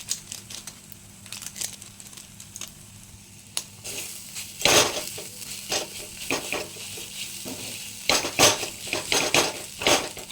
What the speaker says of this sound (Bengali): এবার দিয়ে দিয়েছি ডিমটাকে ভালো করে আমি ভেজে নিব